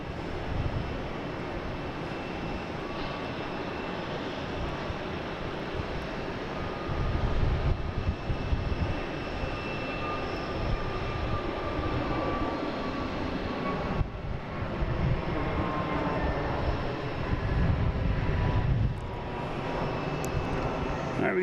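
An Airbus A321neo jet airliner bound for Miami roars steadily at Boston Logan International Airport, its engine noise continuous and rising and falling over about twenty seconds, with a voice talking over it.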